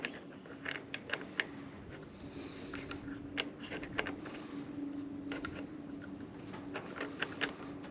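A plastic cap being screwed back onto a compressor intake gives a series of faint, close clicks and scrapes in an irregular rhythm over a steady low hum, with no talking.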